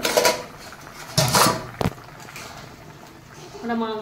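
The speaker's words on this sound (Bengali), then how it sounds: "এবারে আমি ঢাকনা দিয়ে রেখে দেবো" A lid set onto a pot of catfish (magur) curry: a few clattering metal clanks of lid against pot, with someone talking before and between them.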